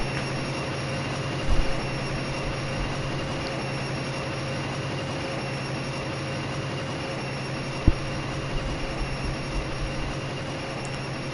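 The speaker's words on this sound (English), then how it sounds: "you'll see the train will start to drive." A train in the Dreams PS4 video game drives along with a steady mechanical rumble and hum, punctuated by a couple of sharp clunks, without any voices.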